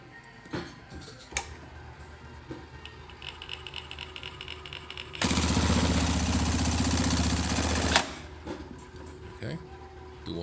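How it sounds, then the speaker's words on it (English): Singer 68 class bartack sewing machine with a circle cam and 220 volt three-phase motor sewing a circle tack: quiet ticking, then a loud dense mechanical burst lasting nearly three seconds, followed by light clicks. "we're sewing a circle patch"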